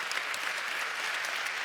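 Applause from the crowd at a sports awards ceremony, a steady even wash of clapping at moderate loudness throughout.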